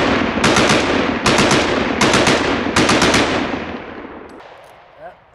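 An AR-15 pistol fitted with a forced reset trigger fires in four rapid bursts of closely spaced shots, loud and sharp with echoing decay between strings, fading to quiet at the end.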